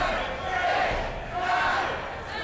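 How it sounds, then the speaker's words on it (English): Wrestling crowd at a Dia de los Muertos show chanting a count to ten in unison along with Sharkboy, a loud surging roar of many voices rising and falling in steady waves. "Here you hear the crowd counting along with Sharkboy"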